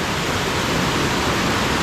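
Kanyar Kayam waterfall roaring as a dense, constant rush of falling water, loud and close.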